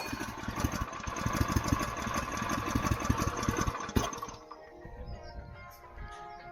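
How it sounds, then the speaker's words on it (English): A pump fills a crop sprayer with a steady, rapid mechanical chugging, close and moderately loud, before it cuts off and leaves quieter background noise. "So now we just get the pump going."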